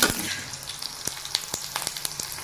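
Garlic frying in hot oil gives a close, crackling sizzle with sharp scattered pops and spits over a soft steady hiss.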